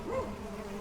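Mandaçaia stingless bees moving over brood discs during a transfer into a ceramic hive box give a steady, close, low insect buzz lasting just under a second, with no voices.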